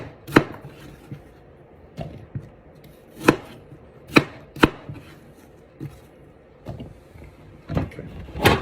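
Knife chopping apple into cubes on a cutting board, a series of sharp, irregular chops close by with short pauses between strokes, no talking.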